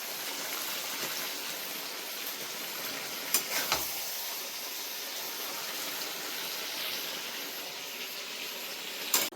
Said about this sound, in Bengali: মাংসটা কষাচ্ছি আমি